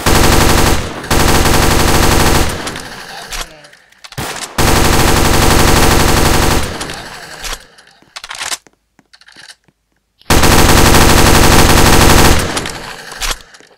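Rapid automatic gunfire in a Roblox game, with long loud bursts of shots broken by short pauses and a near-silent gap near the end, then a final burst.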